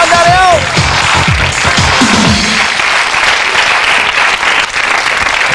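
A studio audience on a live British daytime TV show breaks into loud, sustained applause and cheering that fills the whole stretch, with a brief voice over it at the start.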